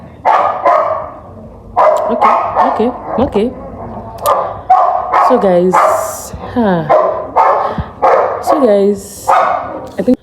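Several dogs barking and yipping repeatedly at close range, with some whimpering, mixed with someone talking over them indoors.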